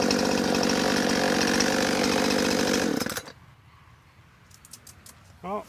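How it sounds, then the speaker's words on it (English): A brand-new chainsaw runs loud and close while cutting a tree limb for about three seconds, then stops abruptly, leaving quiet outdoor ambience and a short burst of speech. "first limb with the chainsaw"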